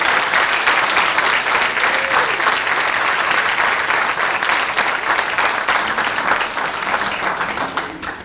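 Sustained, loud applause from a graduation ceremony crowd celebrating eight apprenticeship graduates, an even roar of many hands clapping that carries on without pause before tapering at the very end.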